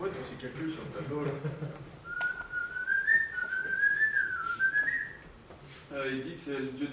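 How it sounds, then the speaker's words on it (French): A long, sliding whistle rises and falls in a melodic, speech-like pattern of a whistled language, with a voice talking briefly before and after. "Il a développé une langue basée sur le sifflement."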